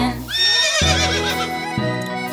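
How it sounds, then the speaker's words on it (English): A horse in a children's song gives a loud, close whinny, a rising and falling neigh lasting about two seconds, with low thuds beneath it. "And the horse goes nay nay."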